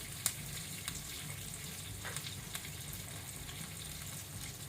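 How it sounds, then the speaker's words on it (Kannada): King fish coated in rava sizzling in a pan over medium flame, a steady low crackle with occasional soft pops, close and quiet with no voices. "ಇದನ್ನೀಗ ಮೀಡಿಯಂ ಫ್ಲೇಮಲ್ಲಿ ನಾವು ಫ್ರೈ ಆಗಲಿಕ್ಕೆ ಬಿಡುವ."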